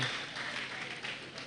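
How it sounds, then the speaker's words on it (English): Audience applause at a communication and media conference, a steady wash of many hands clapping at moderate distance without a break. "Please, can we applaud this man"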